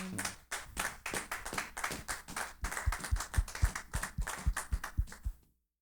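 A church congregation claps to acclaim Christ during a sermon: a long run of steady rhythmic handclaps, loud and close, ending abruptly in silence with no speech.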